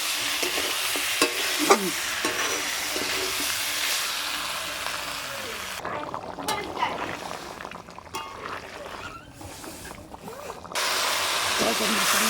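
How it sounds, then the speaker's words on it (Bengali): Chicken fried with spices sizzles in a pan while a spoon stirs it in irregular scrapes and clatters; the frying is loud at first, drops quieter in the middle, then returns. "সুন্দর করে চিকেনটা কষিয়ে নিলাম"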